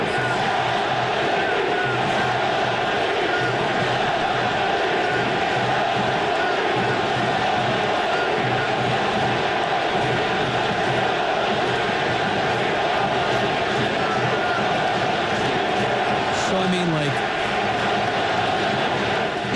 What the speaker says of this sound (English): You heard the crowd go silent and now getting very loud at the Coliseum.